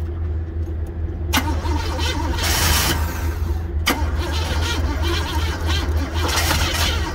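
A 1987 Cadillac with a 5.0 engine cranks and catches, settling into a loud, steady, close idle with a low rumble, followed by a few sharp clicks.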